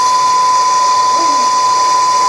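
An LPKF ProtoMat S63 circuit board milling machine runs steadily, milling a logo into a board with a high, constant whine and hiss that stays loud and unbroken.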